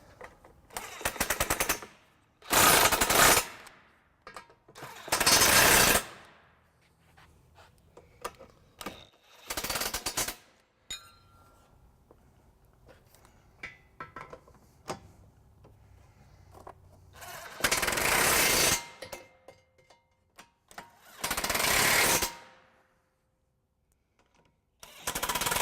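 Bolts on a trailer hitch for a 2016 Mini Cooper Countryman are driven tight with a 15mm socket and extension, heard as several loud, rattling bursts of a power impact tool separated by quieter pauses with faint handling noise.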